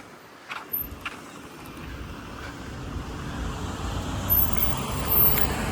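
A car drives along a city street in Merida's Francisco de Montejo neighborhood, a steady road rumble that swells gradually, with a couple of faint knocks early on and no talk.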